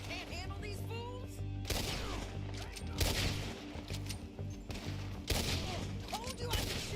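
Gunfire in a Red Dead Redemption 2 shootout: scattered shots and heavier bangs crack over a constant low rumble, with voices beneath the action.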